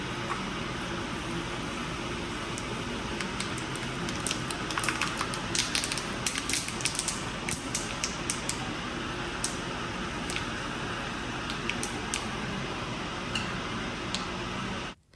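Hot za'atar spiced oil with sesame seeds sizzles in a kitchen while an extractor fan runs, a dense continuous crackle and hiss with scattered sharper pops, steady and fairly loud throughout.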